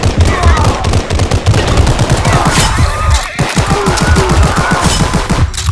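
Rapid gunfire in the video game Glory Front Line, with dense overlapping bursts of rifle, pistol and submachine gun shots rattling continuously at high volume alongside battlefield clatter.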